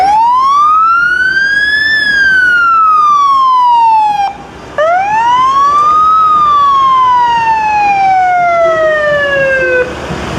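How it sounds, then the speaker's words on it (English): A fire truck from the Bolas Fire Department sounds its siren while passing in the Upsala, Minnesota Heritage Day parade, two loud rising-and-falling wails that carry strongly with the truck close by. "Bolas Fire Department's coming through now."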